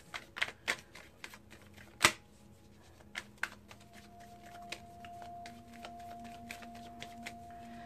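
Crisp, irregular riffling and soft slaps of tarot cards being shuffled up close, with sharp snaps early on and a faint steady hum underneath.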